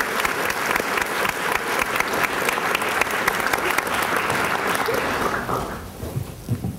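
Audience applause welcoming Professor Nicole Crane as she steps up to introduce a speaker at an evening event, a steady roomful of clapping that holds for several seconds, then thins out and fades near the end.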